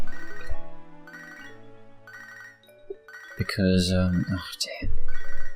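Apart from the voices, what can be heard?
phone ringing in Pokémon HeartGold video game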